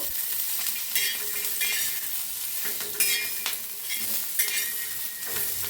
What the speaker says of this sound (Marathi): थोडस तेल ओतून बी मिक्स करून भाजूया